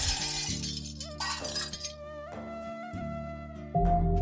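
A car crashes into a motorcycle with two sharp bursts of shattering glass, loud and close, over a steady, tonal musical drone.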